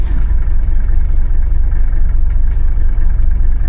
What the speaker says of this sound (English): Surprisingly, it's idling pretty good.